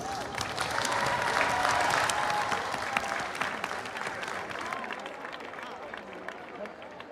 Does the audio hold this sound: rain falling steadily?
no